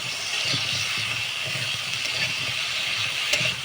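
Yam and potatoes fry in spiced oil with a loud, constant hissing sizzle, while rhythmic spatula stirs scrape the pan roughly twice a second.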